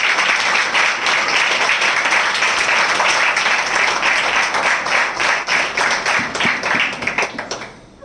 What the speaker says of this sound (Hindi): हम जोरदार तालियों से उनका स्वागत करते हैं